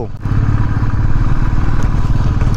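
A motorcycle engine throbs loudly up close on an off-road track in West Sikkim, its rough, pulsing drone steady throughout with occasional rattles as it rides over uneven ground.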